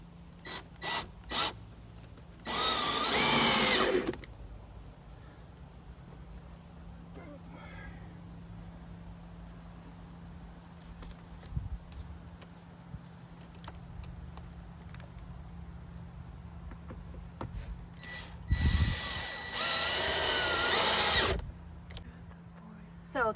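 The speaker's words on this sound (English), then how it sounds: "he's using screws to screw through the fruit board into that piece of plywood" Power drill driving screws through a fruit board into plywood, two distinct whirring bursts of a few seconds each, separated by a long quiet stretch with faint handling clicks and a low steady hum.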